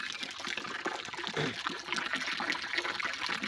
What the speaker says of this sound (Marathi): हौद अर्धा भरून घ्यायचा